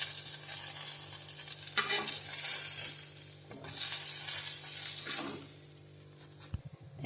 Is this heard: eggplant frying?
yes